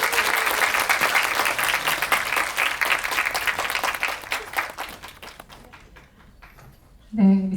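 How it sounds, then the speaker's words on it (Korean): A cinema audience at COEX keeps clapping while the Miss Baek cast and director take their seats. The steady crowd applause gradually tapers off to near silence, then a voice begins talking. "다 착석하실 때까지 조금만 더 길게 박수를 칠까요?"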